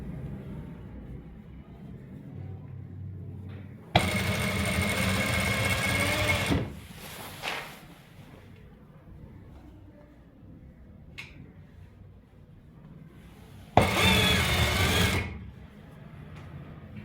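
Sewing machine stitching a pocket along one panel of men's trousers in two loud bursts, separated by quieter handling noises and a few light clicks.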